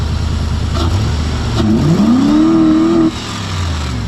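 A car engine idles roughly, then revs up sharply with a rising whine that holds for a second before cutting back to idle; loud and close.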